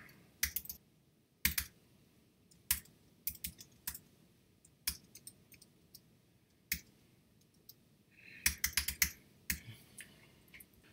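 Typing on a computer keyboard while writing a Perl program, heard as irregular bursts of sharp clicks with short pauses between, including a fast flurry near the end, close and moderately quiet with no talking.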